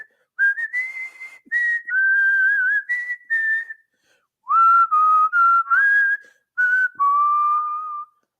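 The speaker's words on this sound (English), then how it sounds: "the warden loves when you do that whistle" A person whistles a tune up close in short melodic phrases with brief gaps, then a pause and a second run of notes, clear and alone with no background.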